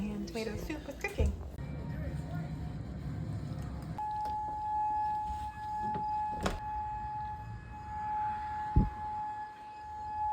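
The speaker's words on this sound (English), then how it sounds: "we all made it through the tornado sirens okay" A tornado warning siren sounds as a steady tone behind someone speaking continuously in a home kitchen, with a few sharp clicks and knocks breaking through.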